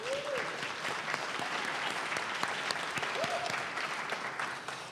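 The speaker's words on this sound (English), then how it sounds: "And Dr. Norward Brooks, you can clap." An audience at a community event in Africatown applauds an honoree, a steady wash of clapping hands filling the room, with a couple of faint whoops over it.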